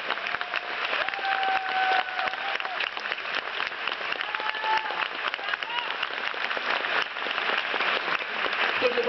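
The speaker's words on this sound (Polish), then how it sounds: "Wielkie brawa dla wolontariuszy." An audience at a women's congress applauds for the volunteers, a steady, dense round of clapping running throughout, with faint whistles or cheers and murmuring voices woven underneath.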